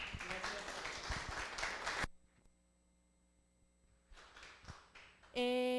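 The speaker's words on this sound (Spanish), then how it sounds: "Aplauso, por favor." An audience applauds after a talk with a burst of clapping for about two seconds that cuts off abruptly, then a quieter patter of claps returns later before a tone sounds.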